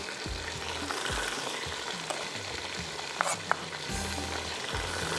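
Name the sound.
sliced tomatoes frying with ginger and garlic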